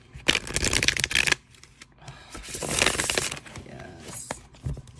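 Tarot cards being shuffled in quick riffling bursts, a long run followed by a pause and a second flurry, close and crisp with no talking.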